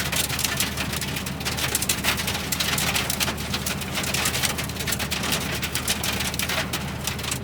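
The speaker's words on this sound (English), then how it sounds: "oh, it's hailstoning now" Fair-sized hailstones pelt the cab of a Mercedes Actros HGV container truck. The rattle is dense and continuous, with sharp clustered impacts close to the cab roof and no voices.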